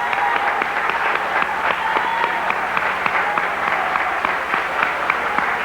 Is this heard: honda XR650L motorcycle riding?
no